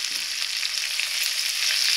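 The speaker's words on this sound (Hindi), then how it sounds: "अच्छे से भूनना है इसको।" Green chili and grated ginger fry in a pan with a constant loud, close sizzle and crackle, steady throughout with no voices.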